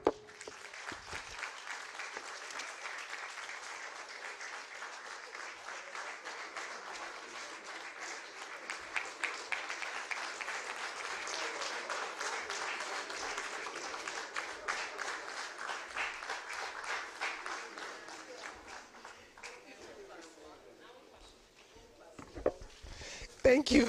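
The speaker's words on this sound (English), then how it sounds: "Another round of applause for Nana Masewa Bonsu, Queen Mother of Ofins" Sustained audience applause at a public forum on countering hate speech and fostering democratic consolidation, a dense steady clapping that fills most of the stretch before thinning out near the end.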